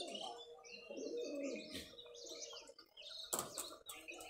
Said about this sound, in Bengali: সবগুলো ঘনবাজির কবুতরের বাচ্চা